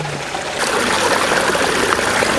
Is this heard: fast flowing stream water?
yes